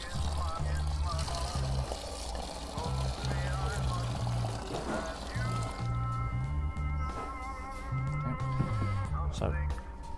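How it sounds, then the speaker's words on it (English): Water is poured into a home brew fermenter from a Mangrove Jacks brewery kit with steady sloshing and trickling, under loud music with a thumping bass line and a voice talking. "So slowly add the water and get stirring."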